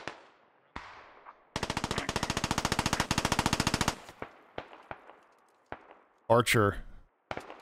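Rapid close machine pistol fire from a firefight in the video game Squad, with one sustained burst of about two seconds, scattered single shots around it, a loud later burst and a short spoken call.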